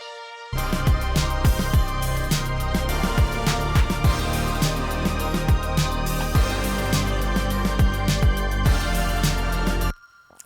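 A simple analog-style synth lead plays a two-to-three-note phrase in a dark pop instrumental, with steady plucky notes over sustained pads and bass, loud and alone for about nine seconds before cutting off.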